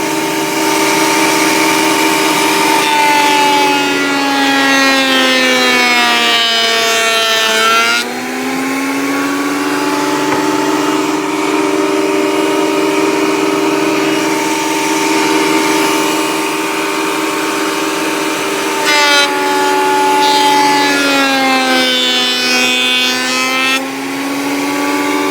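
A Craftsman wood planer runs steadily at high speed, a loud sustained whine with shifting pitch, dipping briefly as the wood feeds through the two blades, then holding again.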